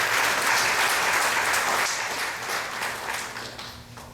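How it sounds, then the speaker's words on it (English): Audience applause for Vyas Maharaj at a Ramayan satsang in a Shiva Mandir: a dense, sustained round of clapping from a crowd, loud at first and gradually tapering off. "Let's give Vyas Maharaj a lovely round of applause."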